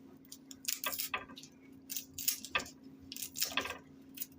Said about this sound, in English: then we peel the onion